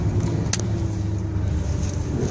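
Road traffic passing a tour bus on a busy morning in Galway, Ireland: a steady engine and tyre rumble with a brief sharp hiss, and no voices.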